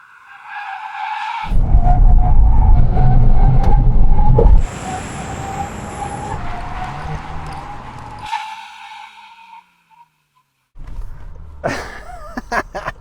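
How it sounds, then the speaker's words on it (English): Several VW Golf GTI generations brake hard from 160 km/h, with loud, sustained tire skidding and screeching that lasts a few seconds as each car slows. A short gap follows, then another squeal starts. "now we can have a brake test from 160 kilometers an hour"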